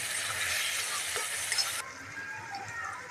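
Onion and tomato sautéing in a pan for a ridge gourd curry, a soft steady hiss that drops suddenly partway through, faint and close with no speech.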